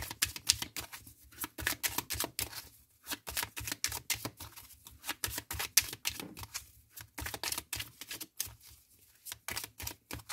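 Tarot cards are shuffled and drawn in quick, dense riffling and flicking bursts, close and quiet, with short pauses between handfuls.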